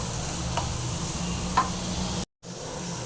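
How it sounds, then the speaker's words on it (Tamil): Onion fries in a pan for a dry fish and prawn gravy. An even, moderate sizzle runs throughout with faint ticks and light stirring scrapes, and it cuts to silence briefly before resuming. "நல்லா ஃப்ரை பண்ணிக்கலாம்"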